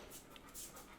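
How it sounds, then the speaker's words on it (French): A dog pants indoors in quick, faint rhythmic breaths against a soft hiss, with no talk. "Excusez-moi pour les bruits de chiens et de pattes qui marchent."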